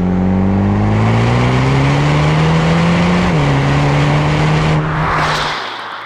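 A MINI John Cooper Works GP with a 2-litre turbocharged inline four-cylinder engine, driven hard up the Coll d'Ordino mountain pass in Andorra: a loud, steady engine drone with rising pitch, a brief shift, then revs holding before easing off.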